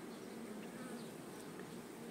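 Honeybees buzzing steadily at a hive during swarming season, a dense continuous hum with no pauses, close and fairly loud, with no talking.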